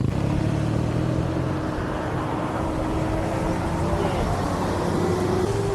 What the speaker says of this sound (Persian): پشت سرم رو نگاه کنین میتونین ماشینا رو بشمارین